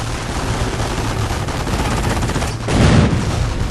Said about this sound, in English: Whoa, explosion!